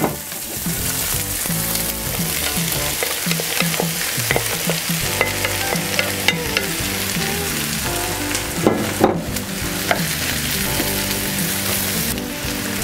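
Mushrooms and onions fry steadily in a pan for a beef tongue in mushroom sauce, a dense continuous sizzle broken by scraping stirs and occasional sharper pops, close and loud with no talking.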